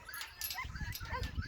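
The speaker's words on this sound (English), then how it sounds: "The dogs are going to go crazy because they always bark when she walks by." Farm dogs near an electric-wire fence let out short, excited barks and yips at a moderate distance, mixed with whimpering, while a person talks over them.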